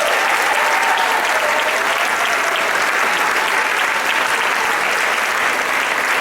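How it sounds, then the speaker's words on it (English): Wedding guests at a ceremony celebration break into sustained, dense applause, a steady wash of many hands clapping at close range for several seconds with no letup. "Let's give one more big round of applause for our performance here."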